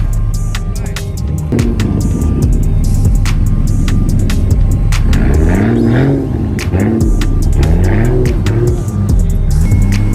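A loud, deep Toyota Supra engine rumbles steadily at idle with a lopsided, choppy rhythm, punctuated by a few throaty blips that rise and fall.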